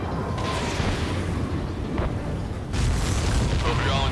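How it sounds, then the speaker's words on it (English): Explosion in the flight combat game Ace Combat 7, a dull rumbling boom under steady jet engine noise, with a second heavier burst swelling in near the end. "Did you see that explosion?"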